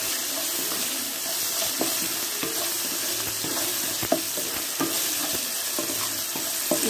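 Tomato pieces cooking over a low flame for Bombay rava upma give off a steady, close hiss of sizzling with occasional soft pops and clinks, and no voices.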